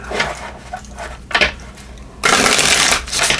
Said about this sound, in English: Let me just give these a little shuffle.